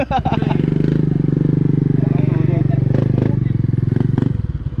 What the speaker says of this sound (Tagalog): kamoting kamote yung tunog ng motor mo